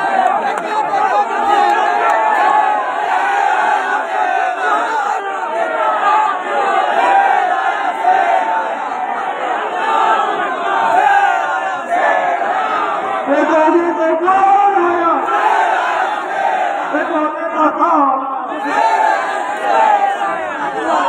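A large crowd at a political rally in Prayagraj, Uttar Pradesh, cheers and chants with loud, sustained massed voices and shouting, continuous and close throughout.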